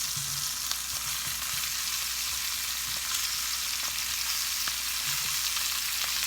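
Onions sizzle steadily in hot oil in a pot for an oven pot roast, a continuous broadband frying hiss with a few faint clicks and utensil taps, close and even throughout.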